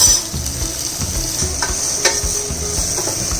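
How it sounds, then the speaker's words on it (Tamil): Potatoes sauté in a pan of green chilies and turmeric for millet khichdi, giving a soft, continuous sizzle while a spoon scrapes and stirs in short repeated strokes close by. "இப்போ உருளைக்கிழங்கு அதில் போடுறோம்."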